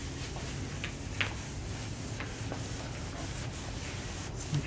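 Headlight restoration in progress as a thin coat is rubbed onto a car headlight lens, a soft steady scrubbing hiss running throughout with a few faint ticks, close and quiet, with no talking.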